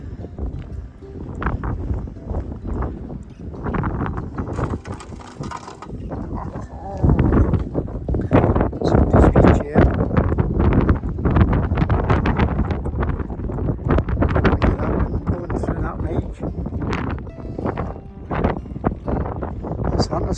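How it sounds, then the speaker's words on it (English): Wind gusts buffet the microphone outdoors on Millport, a loud continuous roar that strengthens partway through, with someone talking over it. "The wind's starting to pick up."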